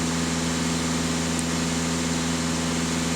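A Skoda Superb diesel engine is held at full throttle around 2,500 rpm, giving a loud, steady, droning hum with no variation and no voices.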